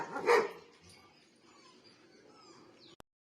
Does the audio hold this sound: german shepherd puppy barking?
yes